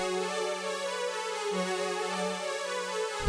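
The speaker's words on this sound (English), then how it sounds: "this is called VHS String Lead, and it sounds like this dry" Dry NR2 VHS String Lead synth preset: a bright, buzzy sustained lead tone with rich harmonics, holding a note at steady moderate level, briefly shifting pitch midway and cutting off at the end.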